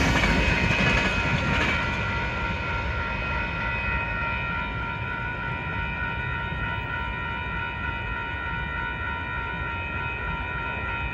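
A Union Pacific outbound manifest freight train, led by UP 6065 and carrying many tank cars, rolls past at Warner Road. It makes a steady loud rumble with ringing wheel tones that eases slightly as it goes on.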